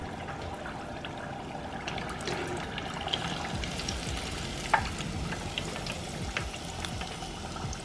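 Lobster and crab egg rolls fry in hot grease, giving a steady crackling sizzle with scattered pops and one sharper snap midway, close and fairly quiet with no talk.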